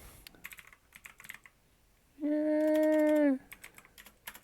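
Keys clicking in quick, uneven bursts on a computer keyboard as a username is entered, close and fairly crisp, with a brief spoken word and a long sustained tone cutting in midway.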